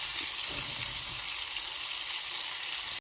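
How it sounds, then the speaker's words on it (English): Caramel with butter for caramelised popcorn cooking in a pan, a steady bright hiss and bubble filling the whole moment, close and even, with no voices. "So I'm just stirring now. Gonna add a bit of butter."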